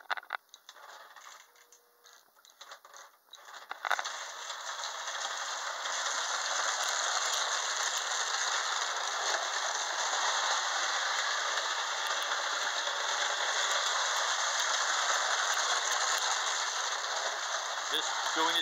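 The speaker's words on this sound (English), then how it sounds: "you'll see it spinning, and you'll see the ball bearings dropping" Steady whirring, rattling mechanical noise with a fast clicking texture as a Lionel toy train wheel spins while tiny ball bearings trickle and drop, fairly faint and continuous.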